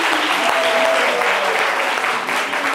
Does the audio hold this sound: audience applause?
yes